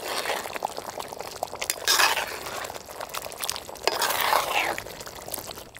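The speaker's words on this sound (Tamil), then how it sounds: "மசாலா நல்லா கொதிச்சுட்டு இருக்குங்க" Thick masala for egg chukka bubbles in a pot, with soft popping, crackling and spluttering that rise in two louder surges, close by, with no voices.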